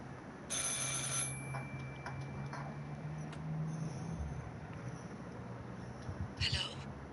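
In the video game Martha Is Dead, a telephone rings in two distinct bursts several seconds apart, moderately loud over a quiet, low-humming background.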